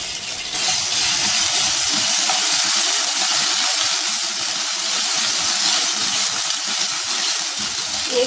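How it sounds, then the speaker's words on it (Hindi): Whole cumin seeds and ginger-garlic paste sizzling in a tablespoon of hot oil in a pan, a loud, steady, crackling hiss that runs unbroken throughout. "1 खाने का चम्मच तेल का डाल दिया इसमें, 1 चाय का चम्मच साबुत ज़ीरा, आधा चाय का चम्मच लहसुन अदरक का पेस्ट"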